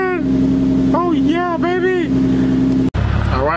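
Infiniti G35 coupe engine running while driving, recovered after P0011/P0021 cam timing faults and with a suspected air leak: a steady close hum that rises and falls with revs, with people talking over it and a brief cut near the end.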